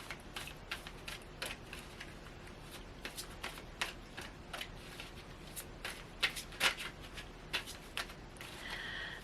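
Tarot cards being shuffled by hand, a quiet stream of rapid riffling snaps and flicks in irregular bursts, close and soft with no talking.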